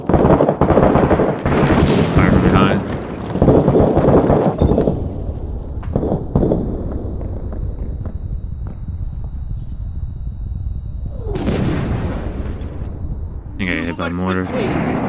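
Heavy gunfire and booming mortar blasts from the Iraq war game Six Days in Fallujah, with loud, dense bursts in the opening seconds, thinner scattered shots through the middle, and a frantic voice talking over the combat.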